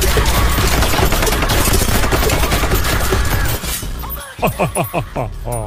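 Guns fire in a rapid, loud, continuous volley during a comedy sketch, with shattering and breaking crashes mixed in, then the barrage cuts off and a voice laughs in short bursts.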